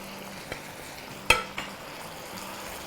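Seasoning and a chicken stock cube stirred into a pan of chicken for chilli chicken with noodles: a steady low sizzle with a couple of sharp utensil knocks against the pan, close and without talk.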